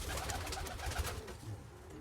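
Pigeons coo softly and continuously in low, throaty murmurs, close by with no talking.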